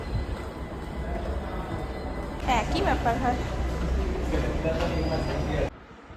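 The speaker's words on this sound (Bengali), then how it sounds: "পার্ক স্ট্রিট থেকে মেট্রোটা ধরবো" A Kolkata metro train from Park Street rumbles and hums with a steady roar, brakes and wheels squealing briefly, while someone speaks over the noise.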